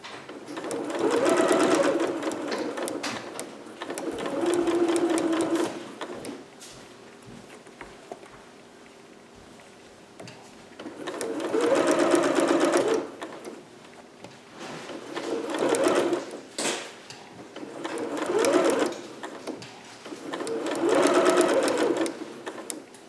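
A sewing machine stitches a dress seam for a Vogue 8280 cap-sleeve dress, running in several loud bursts of rapid stitching separated by quieter pauses with light handling noises.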